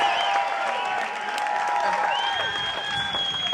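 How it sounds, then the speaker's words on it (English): Audience applause at a KISS Kruise Q&A session breaks out as a dense, sustained wash of clapping and cheering, loud and continuous, with a voice over it. "Big round of applause for Sophie, Evan, and Nick."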